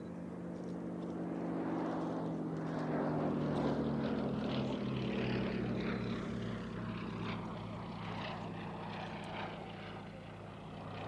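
A restored wartime aircraft, rebuilt over 15 years at Duxford, flies past at the Cosford Airshow with a deep, droning propeller engine note that swells and then slowly fades.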